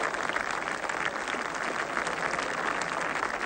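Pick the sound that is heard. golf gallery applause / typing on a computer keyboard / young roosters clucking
golf gallery applause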